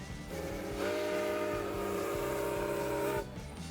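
Canadian Pacific 2816 steam locomotive in full steam on the plains, its whistle blowing one long sustained blast over rumbling, chuffing running noise, loud and fairly close, ending abruptly.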